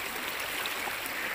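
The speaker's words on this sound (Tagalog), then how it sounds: "Mas malakas ang agos ngayon, no?" A strong forest river current rushes past in a steady, broadband watery hiss, close and unbroken for a brief moment, with no talking.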